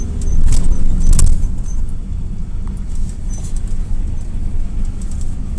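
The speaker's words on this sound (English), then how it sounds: "We're driving down Mansion House Drive now, and then we're making a left turn." A car drives at night along Mansion House Drive in Druid Hill Park, Baltimore, producing a continuous low road rumble with a few faint rattles and ticks above it, and no voices.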